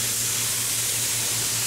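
A paint spray gun hisses steadily as it lays the final coat on the top of an aircraft wing, a close, even broadband spray with a low hum underneath and no voices.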